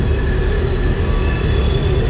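NYC Subway R142 train pulling into 14th Street station in the OpenBVE simulator, a loud, steady rumble of wheels on rail with high sustained motor whine, alone with no voices.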